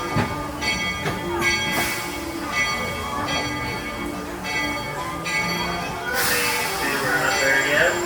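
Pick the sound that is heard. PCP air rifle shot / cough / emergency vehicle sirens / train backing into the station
train backing into the station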